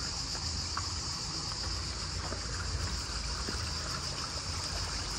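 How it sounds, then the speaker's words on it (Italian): Water runs steadily from a public drinking fountain on a Rome street in summer, a constant soft trickling and splashing heard close by with faint background ambience and no talking. "c'è l'acqua delle fontanine ghiacciata"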